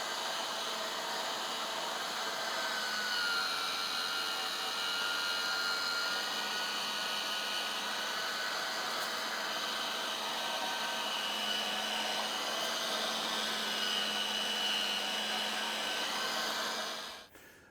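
A meat grinder grinds chunks of venison with smoked pork fat. Its motor makes a constant, loud, broadband roar that holds steady for most of the time and then cuts off at the very end.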